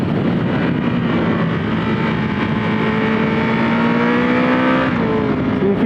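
A Triumph Tiger 1200 GT Pro motorcycle engine revs steadily and loudly up through the higher range, a sustained climbing drone with a rising pitch held close for several seconds.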